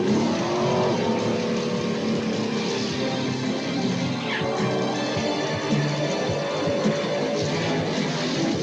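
A drag racing car makes its pass, a loud sustained engine roar with rising revs that holds steady and close throughout, with no talk over it.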